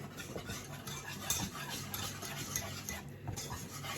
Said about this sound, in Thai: ก็คือการขั่วแป้งให้สุก เห็นปะขั่วแป้งให้มันสุก ใช้ไฟอ่อนนะคะ